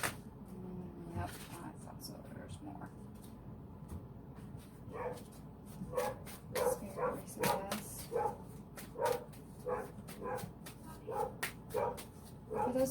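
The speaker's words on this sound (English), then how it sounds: "My dog is going nuts" A pet dog barking repeatedly indoors, sharp yaps coming in uneven bursts that grow louder and more frequent, with a person talking underneath.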